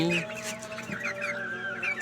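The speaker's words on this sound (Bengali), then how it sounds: "আমার এই মোরগগুলোর ওজন গড়ে এক কেজির মতো" Roosters being readied for sale cluck and murmur close by, with a quick run of short calls in the yard and a faint voice in the background.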